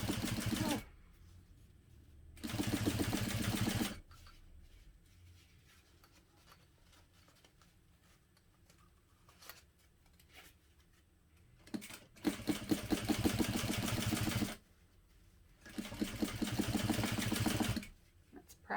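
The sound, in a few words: sewing machine stitching a hobo bag lining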